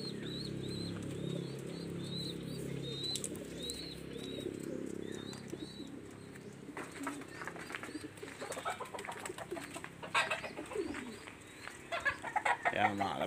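Pigeons coo repeatedly in a loft, soft rhythmic calls close by over a low hum. Later someone talks, and there are scattered clatters and wing flaps.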